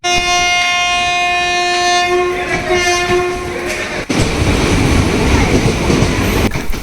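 A train at Guruvayur railway station sounds a long, steady horn blast, then rolls by with a loud, rumbling clatter of wheels on the track.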